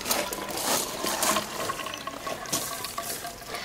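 Water poured out of a plastic cup during an outdoor children's game: a close, continuous splash and trickle lasting a few seconds, without speech.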